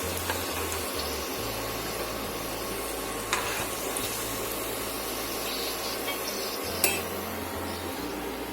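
Potato cheese balls deep-fry in hot oil with a steady, faint bubbling sizzle and occasional soft clinks of a utensil against the pan.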